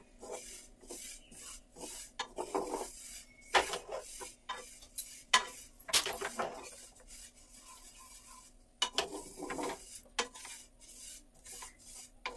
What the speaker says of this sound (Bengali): মিডিয়াম টু লো ফ্লেমেই তিলটা ভাজার চেষ্টা করবে, যেমন করে আমি ভাজছি